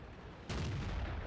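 A tank cannon fires in the World of Tanks video game from a WZ-120, a single sudden loud boom that cuts in after a quiet moment and rumbles on through the rest of the clip.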